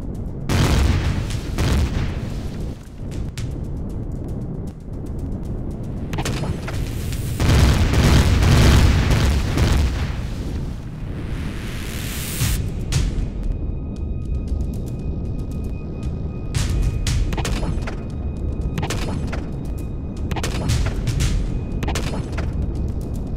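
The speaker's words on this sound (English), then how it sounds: "Let's just do the rail guns." Rail guns in the space game Empyrion Galactic Survival fire in a dense run of heavy booms and bursts, loud and continuous over a rumbling background with sharp crackling impacts throughout.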